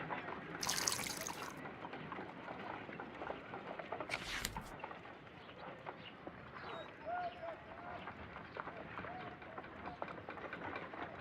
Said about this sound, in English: Let us pour liquid from the bottle into a test tube to perform an analysis